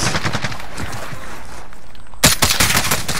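Rapid DMR rifle fire in Call of Duty Warzone on Verdansk: a quick run of sharp, loud shots, a brief lull, then another burst of closely spaced cracks.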